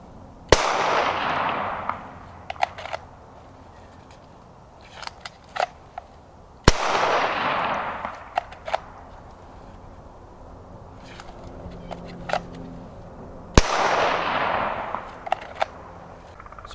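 Three sharp pistol shots fired at even intervals after drawing from a holster in a shooting drill, each a loud crack followed by a ringing decay, with faint clicks and shuffling in between.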